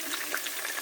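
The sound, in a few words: onions frying in a pan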